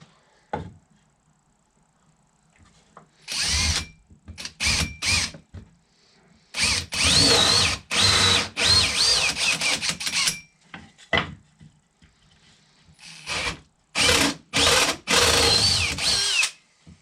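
A power drill whirs in repeated bursts on a workbench build in a garage, short pulses alternating with longer sustained runs, loud and close with quiet gaps between.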